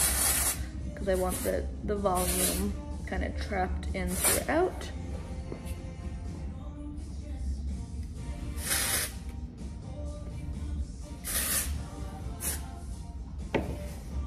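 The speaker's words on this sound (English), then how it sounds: "we're gonna take our texture spray" Hair texture spray hisses from a can in several short bursts while loose beachy waves are styled, with someone talking steadily over the spraying.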